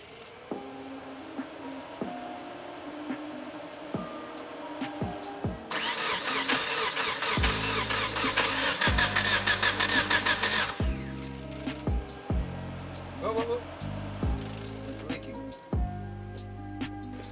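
A 1997 Eclipse GST with a fuel problem cranks and starts with a loud, rough burst, then settles into an uneven idle broken by clattering and knocking sounds. Faint voices are heard in the background.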